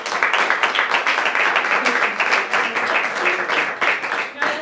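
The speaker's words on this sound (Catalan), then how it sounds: "Un fort aplaudiment!" A studio audience at a televised Catalan prize draw applauds, with lively clapping that pulses and swells slightly throughout, some individual claps cutting through the crowd.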